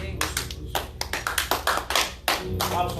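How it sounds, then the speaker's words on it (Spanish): Congregation clapping at a church Bible school session, a few seconds of uneven, close hand claps in loose bursts. "Un aplauso para el Señor."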